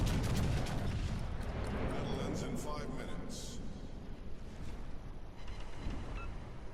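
The secondary guns of the battleship USS Massachusetts fire in World of Warships, giving a rumbling barrage of booms and sharp cracks amid background wind and sea noise, while someone talks over the action throughout.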